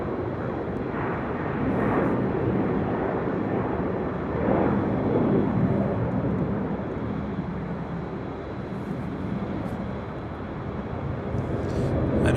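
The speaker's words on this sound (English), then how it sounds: "That is Delta Airlines Flight 301 heading to Tampa, Florida in a 737-900ER, just 6 years of age." Delta Boeing 737-900ER, six years old, on its takeoff roll at LAX, a steady loud jet engine roar sustained throughout with slight swells, heard from a high vantage point.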